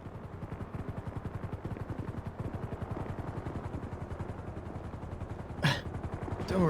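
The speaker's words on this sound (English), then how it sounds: "Well, I hear a helicopter up above." A helicopter thuds overhead in Grand Theft Auto, its rapid rotor chop pulsing evenly and fairly loud throughout, with a couple of brief sharp noises near the end.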